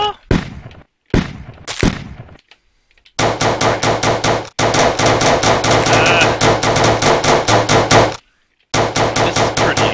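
Rapid Glock pistol fire in a zombie defense video game: a few separate shots at first, then a dense, loud stream of gunfire that runs for several seconds, breaks off briefly, and starts again.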